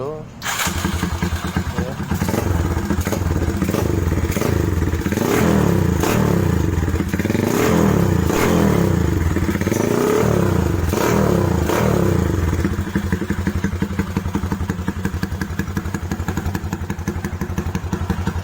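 A Yamaha Scorpio motorcycle being fitted out in a Japstyle custom build is started and revved, its loud engine rumbling and rising in repeated surges close by, with a person speaking briefly over it.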